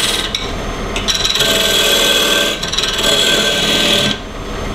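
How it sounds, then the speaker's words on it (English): A skew chisel cuts a tenon on a log bowl spinning on a wood lathe, giving a loud, close scraping hiss in sustained bursts with brief pauses between passes. "I'm just gonna use my skew chisel here and come in and cut myself a tenon"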